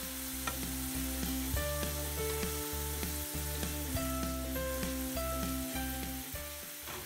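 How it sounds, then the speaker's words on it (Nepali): Sliced potato chips frying in very hot oil, a steady loud sizzle that runs throughout with occasional stirring clinks, no voices. "जब यो एकदमै तेल तातो हुन्छ तब बल्ल यसलाई फ्राई गर्नु होला ताकि यो राम्रोसँग फ्राई होस् र क्रन्ची होस्"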